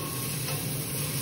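Onions being stirred in a pot for macaroni soup, a steady low hiss with soft continuous scraping throughout, close and even, with no one speaking.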